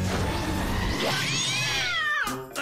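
A cat lets out a long, drawn-out meow that climbs and then falls, loud and close, with no talk over it.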